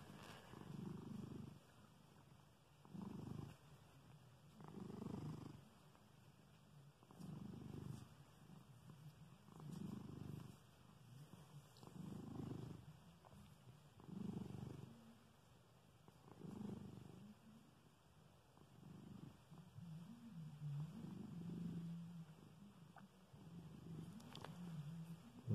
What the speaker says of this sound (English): He just has the most soothing purr in the whole world,